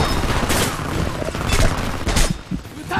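Rapid gunfire in the Homefront campaign, with dense bursts of shots and booms crackling across the whole stretch at close range, rising and falling in waves.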